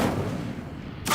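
Incendio fire spell cast in the Hogwarts Legacy video game: a loud, rough whooshing burst of flame that roars steadily for about a second, then ends with a brief bright crackle.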